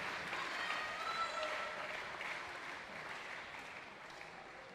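A small crowd claps steadily at a distance for the school children attending a professional squash doubles match at the Open de Squash in Nantes, with a faint, even wash of applause and no voices.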